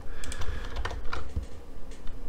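Someone types code on a computer keyboard, giving quick uneven clusters of close, crisp key clicks with brief pauses between bursts.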